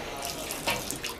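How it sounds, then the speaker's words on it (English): A water tap dribbles steadily in a prison cell, a soft continuous splashing trickle with a couple of small louder drips, close by and alone. "Just a little dribble of water."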